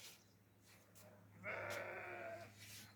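A sheep bleats once in a drawn-out call in a Turkish village farm setting, fairly close, over faint background noise with no talking.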